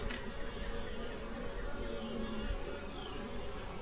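Honeybees buzzing inside an open hive that is close to swarming, a steady close drone with faint background noise and no talk.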